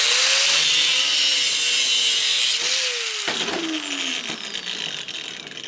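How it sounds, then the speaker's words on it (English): Steel rebar is cut with a power saw for block pilaster pins, a loud, close, sustained high-pitched grinding whine whose pitch slowly sags as the blade bites, dropping off briefly before the cut winds down. "So what I'm gonna do is cut myself some rebar"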